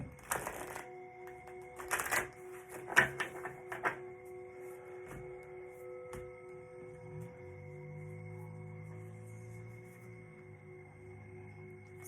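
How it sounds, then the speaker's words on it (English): Several quick papery riffles of tarot cards being shuffled in bursts near the start, then a quiet stretch with a faint steady hum and a low droning tone. "asking me to shuffle the cards too"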